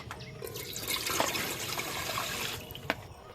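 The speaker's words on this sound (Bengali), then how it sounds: "এবার গামলিতে দিয়ে দেব জল।" Water pours into a metal pot sitting on the stove, producing a continuous splashing rush lasting about two and a half seconds, followed by a few drips and a faint clink.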